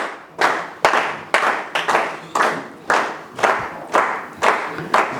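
Audience applause for Ato Dagne at a thank-you and farewell ceremony. The clapping comes in about ten rhythmic surges, each swelling and fading, with no talk over it.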